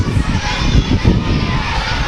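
Steady, close crowd noise at a youth soccer match between Dawson and MSVU, a continuous wash of children's chatter and shouts with no clear breaks.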